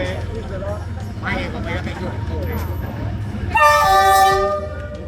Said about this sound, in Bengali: এরই মধ্যে ট্রেন চলে আসছে